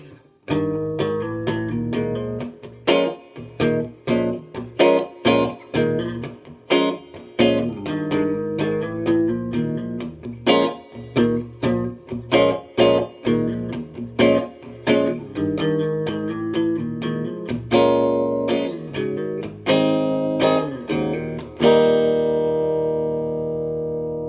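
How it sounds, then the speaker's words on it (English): Clean electric guitar chords strummed in a steady rhythm through a Monoprice 15W amp, each hit ringing out with a splashy spring reverb tail, the final chord left to decay. "it's nice to have an authentic spring reverb, which this does"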